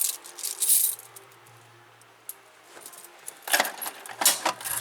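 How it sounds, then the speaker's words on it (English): Bunch of 29 elevator keys jingling and rattling on a ring up close, bright metallic clinks in bursts at the start and again near the end, separated by quieter handling. "This is my collection of keys."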